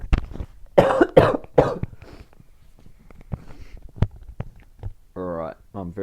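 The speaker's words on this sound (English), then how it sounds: "Excuse me, gonna cough again." A man coughs several times in harsh, loud bursts close to the microphone, with throat clearing and a few words of talk between the coughs.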